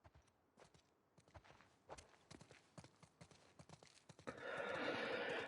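Video-game horses clop along with hooves on the ground and give a whinny, the rhythmic footfalls fairly quiet before a louder rushing noise swells near the end.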